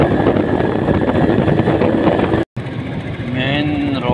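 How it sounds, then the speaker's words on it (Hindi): A motorcycle rides along a main road, giving a loud, continuous wind-buffeted engine roar close to the microphone. It cuts out for an instant, and a voice is heard faintly over the noise near the end. "सारे मेन रोड पर मैं मोटरसाइकिल पर जा रहा हूँ।"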